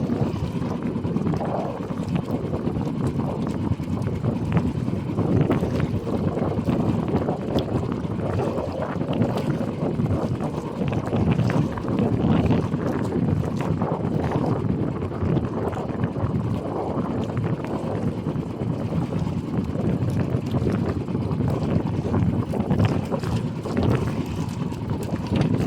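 Strong wind blows steadily and loudly across the microphone, with a low, rumbling buffet and gusty texture that continues for the whole stretch without talk.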